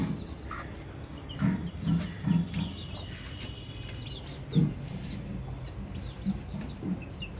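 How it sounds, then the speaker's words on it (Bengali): Native hens with their chicks clucking in a backyard poultry setup: repeated short clucks and high peeping from chicks, fairly close and steady, with occasional louder bursts and no speech. "দেখেন এখানে মুরগি আছে দেশি মুরগি বাচ্চা সহ"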